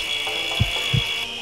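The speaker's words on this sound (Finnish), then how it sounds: "Jos sä nyt voisit vielä sahata ne katkineluun." Saw rasping through a broken bone in the surgery video game Surgeon Simulator, two short dull strokes over a steady high electronic whine from the game.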